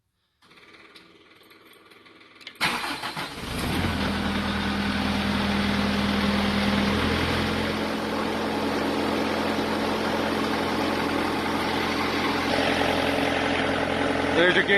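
A new piece of snow-clearing equipment with side wings and an auger cranks over after a quiet start, its engine catching at once and settling into a loud, steady idle that carries on without a break.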